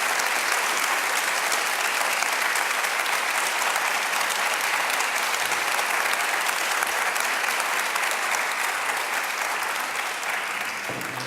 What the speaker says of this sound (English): Ladies and gentlemen, let's give them a big round of applause, everyone.